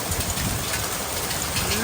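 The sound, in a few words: hailstorm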